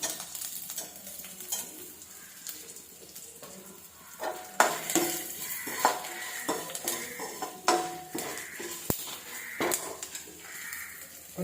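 Garlic sautéing in ghee in a pan for beetroot rasam: a steady close sizzle broken by the scraping and clinking of a spoon stirring against the metal.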